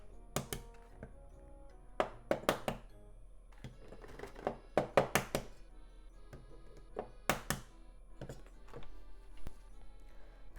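Eggs being tapped to crack small holes in the bottom of their shells: a series of sharp, close knocks in short irregular clusters, some quick double taps, with quiet pauses between.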